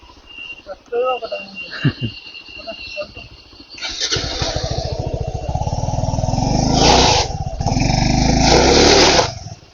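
A Hero Xpulse motorcycle on a beginner off-road route in Kannur starts up after a few seconds of quieter sounds and voices, then runs loud and close with a steady engine drone as it rides off.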